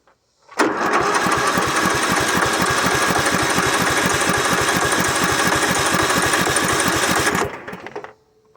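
A lawn mower engine runs rough after being choked, a loud, steady, uneven chugging with a rapid pulsing beat that holds for about seven seconds and then cuts out.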